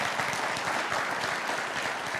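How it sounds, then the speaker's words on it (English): Audience applause at a food sustainability conference session, steady dense clapping from a crowd filling the whole stretch at even loudness with no talk over it. "So give them a round of applause,"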